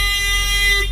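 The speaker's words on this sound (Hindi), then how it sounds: "लेफ्ट साइड में इसके अंदर रिवर्स हॉर्न सेट किया हुआ है, टीटी हॉर्न" A loud, steady electronic reverse horn tone from a Mahindra BS4 vehicle, with many bright harmonics, sustained for about a second and close by.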